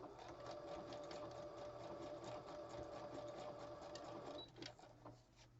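A sewing machine stitching page edges runs in a steady, close, whirring hum with a fast rhythmic needle chatter for several seconds, then stops with a couple of small clicks.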